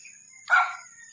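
A single short dog bark rings out, fairly close, in a quiet rural residential area with a steady high-pitched insect or electrical whine behind it.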